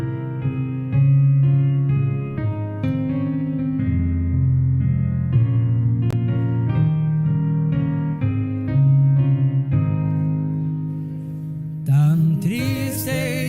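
Congregación Judá singing the hymn "Ya todo dejé": a steady, melodic sung line over sustained harmonies that carries on without pause, with a brief sharp change near the end.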